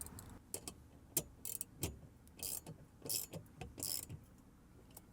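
Near, intermittent metallic clicks and ratcheting from a hand tool working an 8mm bolt during an expansion valve replacement on a Honda Ridgeline, coming in short separate bursts with pauses between them and no talk.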